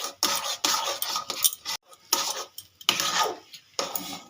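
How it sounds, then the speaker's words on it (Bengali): Rice flour being stirred into ghee in a pan for marigold-shaped pitha, several distinct bursts of scraping and clatter from a spoon against the pan separated by short pauses. "এরকম করে নাড়তে হবে যাতে দলা না পাকিয়ে যায়"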